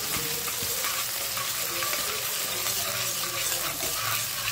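Ginger and green chillies stirred in a pan with a little oil for ragda patties, a steady close sizzle with scraping spoon strokes running throughout, no voices.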